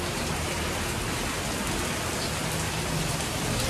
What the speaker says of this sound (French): On a le petit orage qui va bien, la pluie, mais écoutez-moi ce bruit.